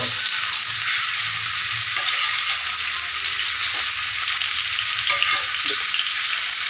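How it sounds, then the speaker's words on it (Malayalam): Potatoes sizzle loudly in hot oil, a constant crackling hiss with occasional soft stirring clinks. "ഞാൻ അതിനകത്തേക്ക് എണ്ണ ഒഴിച്ചിട്ടുണ്ട് കേട്ടോ ഉരുളക്കിഴങ്ങ് ഇട്ട് കൊടുക്കാം"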